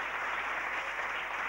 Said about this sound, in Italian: Facciamo un bel applauso a questo concorso.